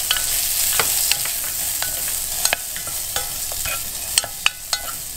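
Boiled beans and garlic are stir-fried in a pan under a constant hiss of sizzling, broken by sharp, irregular clicks and scrapes of a utensil against the pan.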